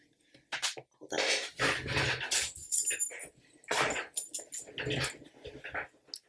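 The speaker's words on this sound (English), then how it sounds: "It's my dog." A dog close by in a home, making a run of whimpers and low growling vocalizations in uneven bursts with short pauses between.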